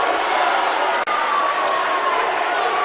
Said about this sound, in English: the crowd's really, really getting into it